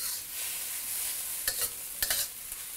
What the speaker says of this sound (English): Now's your chance to really make sure your rice is well mixed